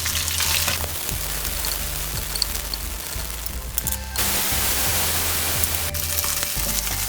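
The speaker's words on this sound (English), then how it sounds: "Fish fry is ready." Mourala fish sizzle and crackle steadily in hot oil in a home kitchen pan, a dense close frying hiss with brief shifts in intensity and occasional clinks.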